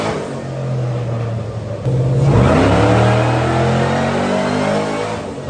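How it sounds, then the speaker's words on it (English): A 750-horsepower LSA supercharged 427 stroker V8 in a rock bouncer idles loudly, then revs sharply upward and holds a rising, roaring pitch, close and unaccompanied by speech. "The engine in this thing is a 750 horsepower LSA Supercharged 427 stroker."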